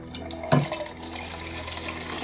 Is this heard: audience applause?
no